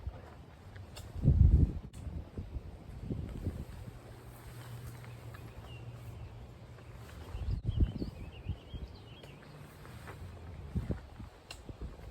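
Strong wind of about 50 to 90 km/h buffets a tent, a constant low roar with heavier gusts thumping in near the start and again later, close to the microphone.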